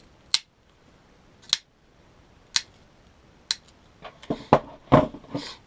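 Rope being cut off during a handle-making tutorial, four sharp isolated snips spaced about a second apart, followed by a cluster of softer rustling and clicking handling noises.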